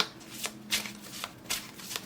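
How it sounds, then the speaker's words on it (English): Tarot deck being shuffled by hand, close up in a quiet room, with several quick papery riffling bursts in uneven rhythm. "I would just shuffle."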